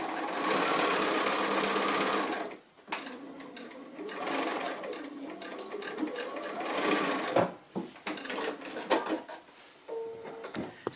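A sewing machine stitches along the edge of a fabric pin cushion over a length of cord, whirring steadily for two seconds, then running in shorter bursts with pauses and small mechanical clicks.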